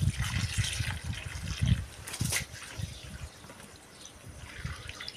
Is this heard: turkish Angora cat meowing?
no